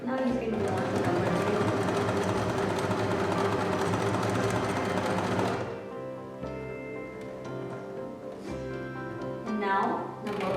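A sewing machine stitches a straight seam in fabric with a steady, fast mechanical whir. It runs evenly for several seconds, then eases off and drops to a quieter clatter.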